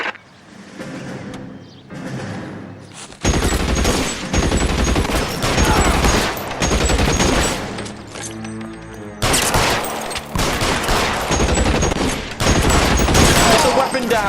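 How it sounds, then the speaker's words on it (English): Gunfire during a shootout in the 1940s Los Angeles crime game L.A. Noire: dense, loud bursts of rapid shots in several long volleys with short lulls between them, mixed with shouting voices. "shots fired"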